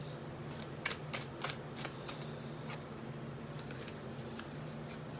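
Tarot cards being shuffled by hand, a quiet close run of riffling and flicking bursts with soft slaps as cards are drawn, faint and steady without speech.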